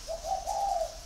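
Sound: oriental magpie-robin calling in its cage

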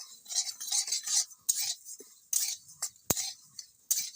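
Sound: stirring lentils in a wok

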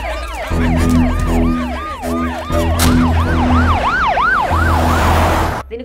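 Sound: ambulance siren

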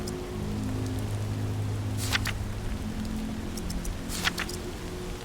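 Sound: rain in video game Walking Dead Saints and Sinners

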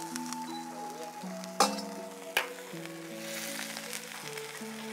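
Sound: fish sizzling in pot with pickled mustard greens

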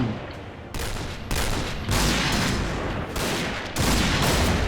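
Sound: L115A1 sniper rifle gunfire in a video game

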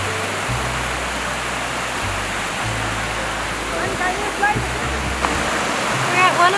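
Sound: waterfall rushing

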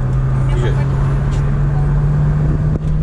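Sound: car accelerating on the road

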